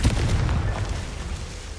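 A Confringo fire spell in Hogwarts Legacy goes off as a loud, booming explosion at the very start, then rumbles down into a fading low roar.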